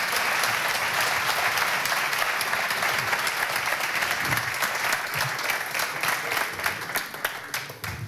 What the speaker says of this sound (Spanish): yo creo que se ha merecido un aplauso por parte de todos.